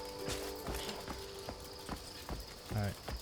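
Horse hooves clip-clop at a slow walking pace in the video game Crimson Desert, roughly six evenly spaced hoofbeats, fairly quiet, with a low steady tone behind them.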